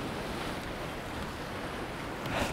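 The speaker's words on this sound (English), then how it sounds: "I am having waves coming in from behind" Ocean waves roll in at high tide on the beach at Eystrahorn, Iceland, a dense, steady wash of surf with wind noise, swelling slightly near the end.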